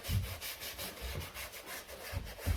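Brush scrubbing New Balance suede shoes, a quiet, close, back-and-forth scratchy rubbing in short repeated strokes.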